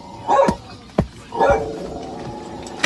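A rabid dog barks and yelps in short bursts during an attack, close and loud, with gaps between the outbursts.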